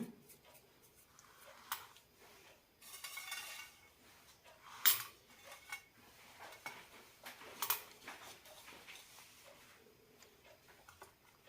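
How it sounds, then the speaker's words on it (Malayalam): Homemade palkova, a milk sweet, being scraped and moved into a setting dish, with scattered metal spoon clinks and taps against the vessel, quiet and irregular with short pauses and no speech. "ഇനി ഇത് സെറ്റ് ചെയ്യാനുള്ള പാത്രത്തിലേക്ക് ഇടാം"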